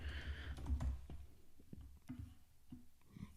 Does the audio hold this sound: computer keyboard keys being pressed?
yes